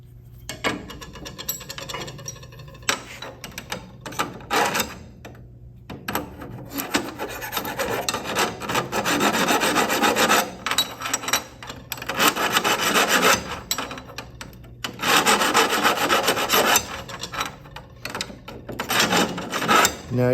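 Steady rasping and rubbing of a deburring tool working the sharp inside edge of a freshly cut steel tube, close and continuous in long strokes with brief pauses between passes.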